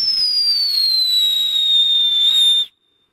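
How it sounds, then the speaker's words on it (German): A Luftpfeifer whistling firework screeches loudly and steadily for almost three seconds, its shrill tone slowly sliding downward with a faint crackle beneath, then cutting off abruptly into silence. "So, jetzt der erste Luftpfeifer hier."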